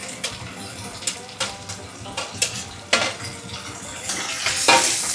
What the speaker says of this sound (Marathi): कांदा टॅमॅटो छान भाजून घ्यायचं आहे थोडा लालसर होईपर्यंत